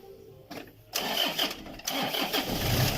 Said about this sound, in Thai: ต่อไปก็ให้สตาร์ทรถแล้วก็ปิดเลยนะครับ